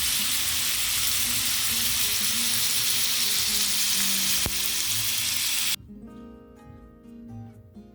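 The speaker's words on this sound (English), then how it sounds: "you got the sounds of this sizzling steak" Steady, loud sizzling of sirloin steak frying in a hot pan, crackling continuously, then dropping to a quieter sizzle near the end.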